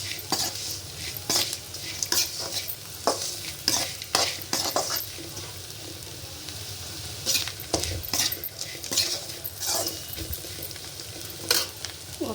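A large batch of bitter gourd, about six kilos, is stir-fried in a pan. Quick scraping and clinking strokes land irregularly over a continuous close sizzle, with no talking.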